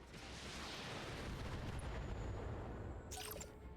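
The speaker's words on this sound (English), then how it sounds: "Oh my gosh, ammo explosion." A loud in-game ammunition explosion rumbles as a dense, sustained roar of blasts filling the whole stretch, with a brief sharper crackle near the end.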